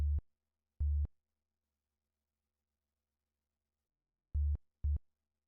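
A pure sine-wave synthesizer bass without sustain plays short, deep, clean notes: two quick ones, a long gap of silence, then two more, loud and alone.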